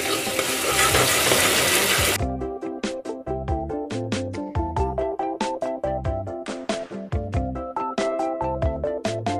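Garlic frying in a pan while tuna and vegetables are being cooked: a loud, dense sizzle for about two seconds, then abruptly replaced by rhythmic music with drum hits.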